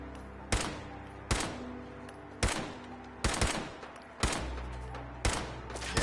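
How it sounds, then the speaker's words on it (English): Pipe rifle gunfire in the video game Fallout 4: seven sharp single shots spaced roughly a second apart, each with a brief echoing tail, fairly close and unaccompanied by talk. "this is a little pipe rifle"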